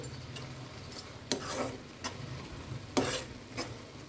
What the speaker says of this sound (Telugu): చూడండి క్యారెట్ పాలల్లో ఉడుకుతుంది